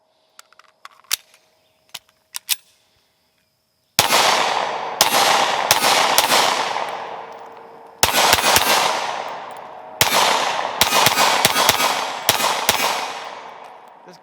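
A Smith & Wesson M&P 5.7 pistol is fired in rapid strings of loud, sharp shots, each ringing out with a long echoing decay, after a few quieter metallic clicks and handling noises at the start.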